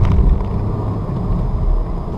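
A manual-transmission car held in third gear gives a steady, close, low engine rumble and drone while accelerating after a turn, with no speech.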